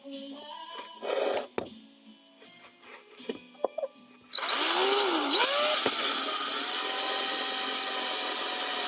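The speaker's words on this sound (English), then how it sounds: "now just remember you're drilling into aluminum" A power drill spins up and bores into aluminum on a Ford 8N tractor ignition install: after some quieter handling clatter, the drill starts loudly midway, whines up and dips in pitch, then runs steadily close by to the end.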